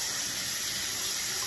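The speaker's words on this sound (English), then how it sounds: "Do this, it will shoot out water." Hot water spurting forcefully from a small hole, a continuous hissing gush that stays loud and steady throughout, with no talk.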